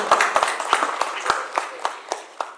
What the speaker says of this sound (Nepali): रोयाजीको यो अटेम्प्टलाई एकचोटि हामी सबैले ताली बजाएर बजाइदिनै पर्छ